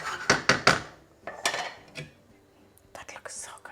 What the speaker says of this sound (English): And now I'm going to cover and cook this for 10 minutes.